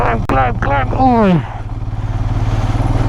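A motorcycle rides an off-road dirt road near Changla Pass in Ladakh. Brief rising, voice-like tones sit over it at first, then the engine carries on alone in a close, rhythmic low throb.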